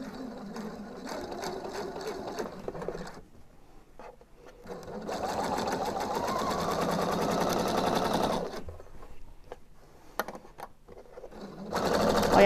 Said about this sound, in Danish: Og så skal vi sy med en centimeter sømmerum hele vejen rundt i halsen her.